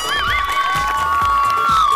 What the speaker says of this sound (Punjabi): ਤਾਲੀ ਮਾਰੋ